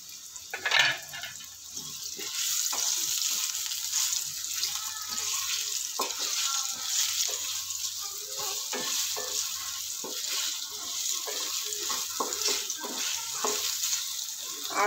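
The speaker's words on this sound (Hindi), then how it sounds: "आलू को सॉफ्ट होने तक हम फ्राई कर लेंगे और गोल्डन ब्राउन करके इसको हम फ्राई कर लेंगे।" Salted potatoes fry in a pan with a steady, soft sizzle and occasional stirring scrapes, heard alone without talk.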